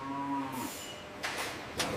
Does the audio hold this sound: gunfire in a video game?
no